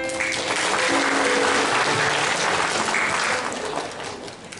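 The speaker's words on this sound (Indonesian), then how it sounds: "Tepuk tangan untuk orang tua kita." At a university graduation ceremony, the audience applauds the graduates' parents with sustained, fairly loud clapping that gradually thins and fades toward the end.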